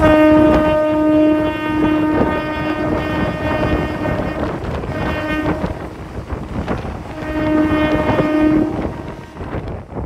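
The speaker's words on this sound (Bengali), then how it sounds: "আর আমাদের ট্রেনটা কিন্তু উলুবেড়িয়া স্টেশন থেকে ছেড়ে দিল" A local train on the Howrah–Digha line pulls out of Uluberia station, loud and close, with long horn blasts sounding twice over rumbling wheels and clattering carriages.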